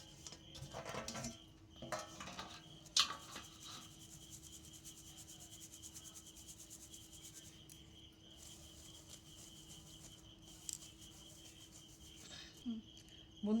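Dried tomato powder is shaken and rubbed through a sieve, producing soft, intermittent scraping and gritty rustling with light metallic taps, close by and quiet, in irregular bursts.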